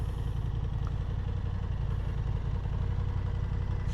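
Engine of a 2023 Honda Hornet parallel-twin motorcycle fitted with an SE Project exhaust, a steady low throbbing idle held at constant level close by with no voices.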